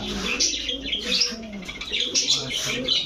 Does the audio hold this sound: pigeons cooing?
yes